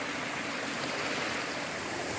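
Allen Brook Falls on a mountain hike, rushing water that pours as a continuous broadband roar, steady and close, with no voices.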